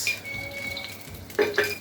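A tablespoon of ghee hits hot oil left over from frying farm chicken for a roast, giving a soft sizzle with a couple of sharp pan or utensil clinks near the end.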